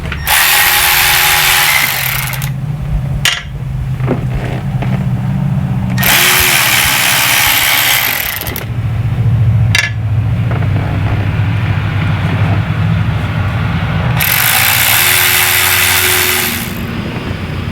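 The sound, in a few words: power tool removing thermostat housing bolts on school bus engine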